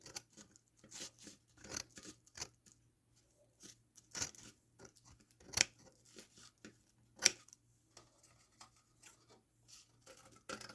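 Scissors snip napkins down to size in a run of short, sharp cuts and crisp paper rustles, close and fairly quiet, with brief pauses between bursts and no talking.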